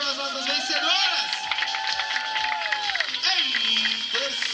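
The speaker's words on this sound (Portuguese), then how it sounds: "uma salva de palmas aí básica para as nossas vencedoras" Applause and cheering for the women's 5 km race winners at an awards ceremony in Campinas, with a broad crowd wash running throughout and an announcer's voice riding over it.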